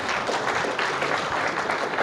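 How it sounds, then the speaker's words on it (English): Brief, dense applause from an audience at an economic policy session rises steadily for the speakers, with a faint voice beneath. "So please give them a round of applause."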